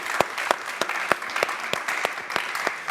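An audience claps in steady, evenly spaced beats during a church broadcast, a rhythmic run of sharp claps at moderate distance with no talk over it.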